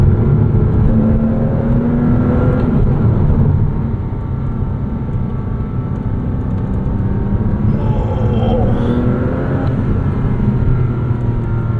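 A 2006 Porsche Cayman S with a six-speed manual gearbox accelerates hard toward its 7,300 RPM redline, a loud, close engine drone rising steadily in pitch with no voices.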